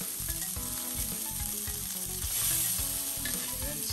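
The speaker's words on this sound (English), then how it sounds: "They're going to saute some garlic." Garlic sautéing in butter in a pot, a steady close sizzle with soft rhythmic stirring scrapes throughout, continuous and fairly loud with no voices.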